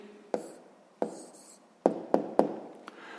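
A pen writes an answer by hand for a math exercise, with a handful of sharp taps and short scratchy strokes spaced irregularly, close and fairly quiet.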